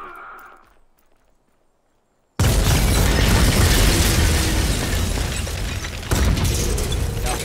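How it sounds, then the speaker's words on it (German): In the video game Volcanoids, a drillship blows up with a sudden loud blast after a brief quiet stretch, followed by a sustained rumbling, crackling roar and a second smaller burst near the end. "Oh, Drillship explodiert."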